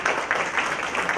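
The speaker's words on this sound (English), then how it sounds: "A big round of applause." Brief burst of audience clapping at a blockchain and cryptocurrency masterclass, a dense, even patter of many hands sustained across a moment.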